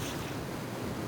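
A waterfall in the video game Descent II gives a dense, continuous rushing roar, steady and fairly loud for the whole brief moment.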